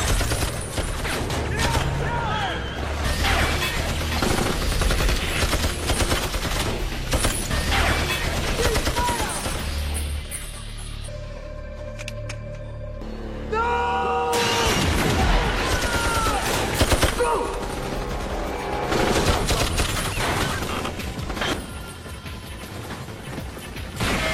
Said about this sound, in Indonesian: Baku tembak pun kemudian terjadi.